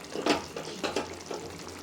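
Chicken curry gravy simmering in a pan, with soft bubbling and wet sizzling plus a few stirring scrapes, close and moderately quiet.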